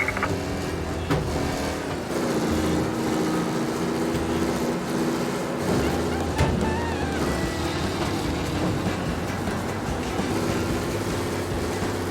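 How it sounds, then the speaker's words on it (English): A race car roars along night roads in the video game Mafia: Definitive Edition, its engine note rising and shifting loudly over a steady game soundscape, with no speech. "Race car out on the roads tonight."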